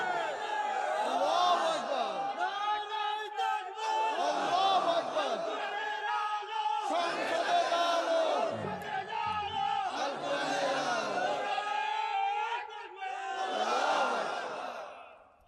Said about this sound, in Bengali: আরে ভাই যুবকেরা কই, তাকবীর দাও না, তোমাদের মাহফিলে তাকবীর নাই কা?